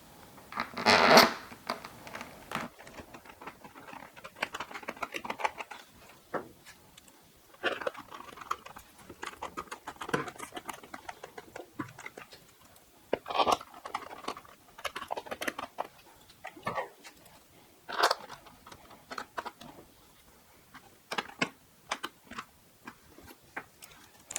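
Long kit screws being driven by hand into plastic receiving points on an E-flite Focke-Wulf Fw 190A 1.5m foam model plane, giving a string of close, quiet clicks and ticks in irregular bursts with pauses, no talking.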